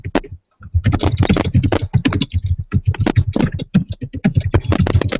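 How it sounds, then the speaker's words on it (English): Rapid computer keyboard typing during a conference call, a steady run of close clicky keystrokes with brief pauses, loud and continuous across the stretch. "Whoever's typing out there is disrupting the call tremendously."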